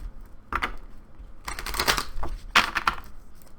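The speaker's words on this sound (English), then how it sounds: "One more shuffle." Tarot cards are shuffled by hand in a few quick bursts of riffling and slapping, close and crisp, separated by short pauses.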